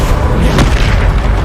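A Bombarda spell detonates in Hogwarts Legacy as one loud, close, deep boom with a brief sharp burst at its peak.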